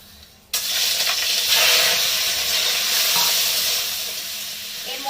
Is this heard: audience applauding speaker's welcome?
no